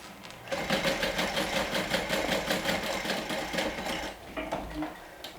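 Sewing machine top stitching an eighth-inch seam: a steady, fast rhythmic whirr and needle clatter running for several seconds, close and moderately loud, then slowing into a few separate stitches.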